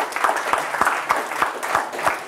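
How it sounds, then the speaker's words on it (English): An audience at a tech conference talk applauds in a short, even burst, the claps coming in a rhythmic pattern of regular pulses, close and moderately loud with no talking. "I want to give another round of applause for the talk"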